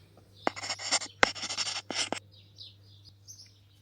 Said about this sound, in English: The birds are up, the sun is up